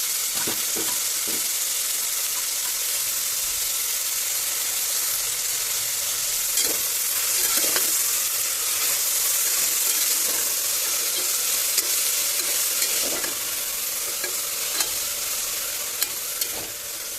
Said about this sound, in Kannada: ಸ್ವಲ್ಪ ಉಳ್ಳಾಗಡ್ಡಿ ಟೊಮೆಟೊ ಸ್ವಲ್ಪ ಫ್ರೈ ಆದಮೇಲೆ